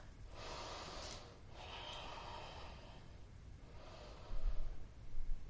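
Slow breathing in a yoga forward fold: long, soft breaths with audible airflow, three or so exhales spread evenly, close and quiet, with a slightly louder snort-like breath near the end.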